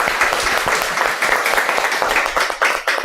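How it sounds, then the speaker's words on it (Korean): Loud, dense applause from a crowd at a Buddhist temple gathering, steady clapping filling the whole stretch without a break. "한번 감사의 박수."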